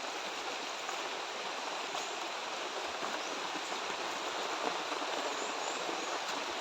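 Steady rain pours down close by outside a hut, an even broadband hiss with faint patter and no pauses, loud and unbroken throughout with no voices over it.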